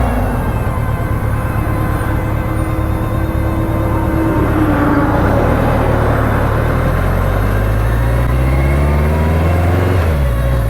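Traffic passes on a highway in rural New South Wales, a steady loud engine and tyre roar with a vehicle's pitch sweeping past near the end, no talk.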